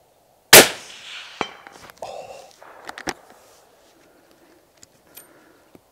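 A single loud Blaser K95 rifle shot fired freehand at a target 200 metres away, a sharp crack with a short decaying tail, followed by faint rustling and small handling clicks.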